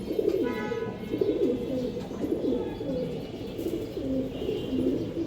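Pigeons in a breeder's loft, including a pair with their squab, coo in repeated low throaty phrases close by, one call following another across several seconds with no talk.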